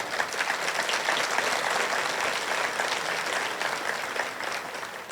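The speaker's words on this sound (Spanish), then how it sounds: "Si tú lo crees, dale fuertes palmas al Señor." A church congregation claps loudly and steadily, a dense sustained applause of many hands close by, continuing evenly throughout with little variation.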